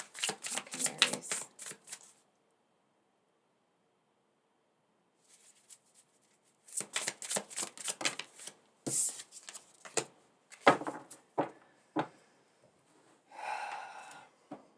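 Tarot cards being shuffled by hand in short rustling bursts separated by pauses, close and fairly soft, with a few sharper snaps of the deck near the end.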